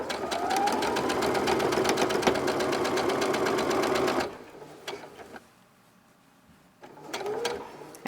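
A sewing machine stitches fabric for a tote bag, running steadily and loudly for about four seconds, stopping, then starting again briefly near the end.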